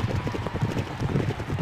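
Racehorses gallop in a steady rapid clip-clop of hooves over turf, with a constant low rumble beneath, from the arcade horse-racing game Derby Owners Club.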